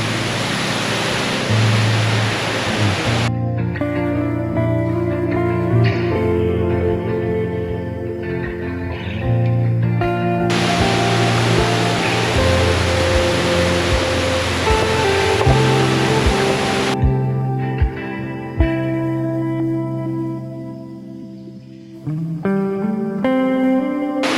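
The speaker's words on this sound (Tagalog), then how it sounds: "May dire-diretso yung agos na tubig." A waterfall in Laiban, Tanay, Rizal sends out a continuous broadband rush of flowing water, strongest in a few stretches, with steady tonal music running loudly over it the whole time.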